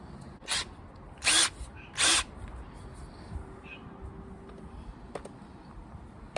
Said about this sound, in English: Let's try the drill bit and see how that goes.